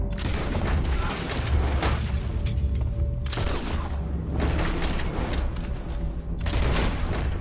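Rifle gunfire in the video game Red Dead, loud booming shots and rattling bursts repeating in dense waves over a noisy game soundscape.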